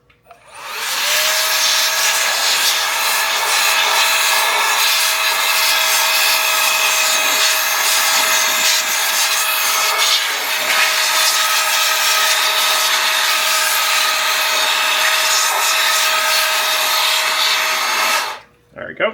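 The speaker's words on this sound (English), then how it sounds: "we're going to do the same thing for the front of the CPU fan. We're going to blow it out." Compressed air blows steadily for about eighteen seconds, loud and close, as dust is cleared from the front of a computer's CPU fan. A thin fan whine runs beneath the rush of air, a voice speaks briefly over it, and the blast cuts off sharply at the end.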